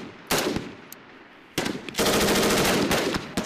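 Bursts of machine gun fire during a US Army airborne division combat exercise in Alaska, with a short burst, a lone shot, then a long sustained loud volley and a final burst, up close.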